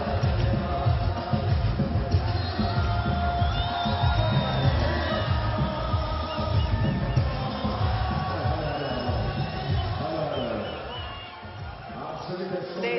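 A large crowd at the Attari-Wagah border Beating Retreat ceremony roars, chants and cheers continuously, with shouts and whoops rising from a dense, distant wash of voices that eases slightly toward the end.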